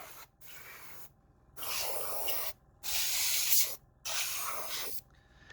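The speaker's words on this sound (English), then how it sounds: "I'm generally just trying to do as much work with the airbrush as I can" Airbrush spraying paint onto a Gaslands tabletop model vehicle, hissing in four close bursts of a second or so each, separated by short silences, with no talking.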